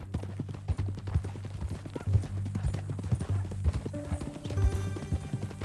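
Horse hooves clip-clop steadily on the ground in Red Dead Redemption 2, a continuous rhythmic walking gait close up, with faint ambient game sounds and a brief tonal chime near the end.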